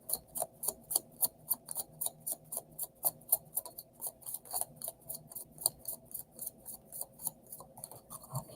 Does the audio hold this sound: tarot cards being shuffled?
yes